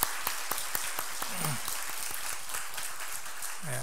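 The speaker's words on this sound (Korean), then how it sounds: "박수로 환영하겠습니다." A church congregation claps to welcome visiting missionaries, steady mid-distance applause from many hands filling the room, sustained throughout with a few brief voices underneath.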